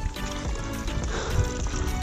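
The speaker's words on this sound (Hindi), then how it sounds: "ये देख सकते हैं आप बीच पहाड़ में से पानी निकल रहा है" Spring water flowing out of a mountainside, a close, steady trickling and splashing stream with a faint voice in the background.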